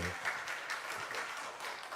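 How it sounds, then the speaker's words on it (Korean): Church congregation at a Sunday afternoon service applauding the choir, a short, soft burst of clapping that trails off within about two seconds, with a little speech underneath. "우리 박수 한번 부탁드리겠습니다"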